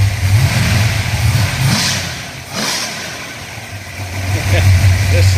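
A DCI Motorsports 406 pump-gas engine, a big-cube V8 with 9-to-1 compression, idles loudly and close with a lumpy rumble, then rises in revs and settles back.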